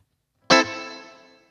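A single strummed electric guitar chord blooms into a smooth, spacious hall reverb that fades gradually over about a second.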